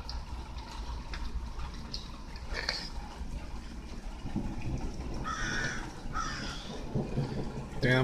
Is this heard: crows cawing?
yes